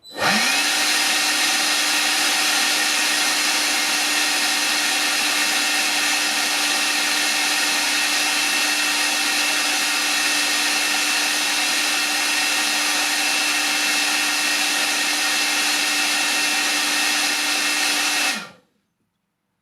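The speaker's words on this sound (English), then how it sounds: "That is one extremely noisy blower." A repaired blower runs very loud and constant at a steady whine, starting abruptly and cutting off sharply after about eighteen seconds, with no talking.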